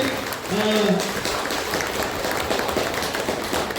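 An audience at a motivational event claps in a dense, steady wash that holds the whole time, with a brief voice heard near the start.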